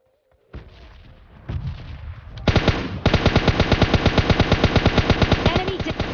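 Automatic gunfire in PUBG Mobile Lite, a mobile battle royale game, starting with a few scattered shots and then breaking into a long, rapid, evenly paced burst of loud, close fire.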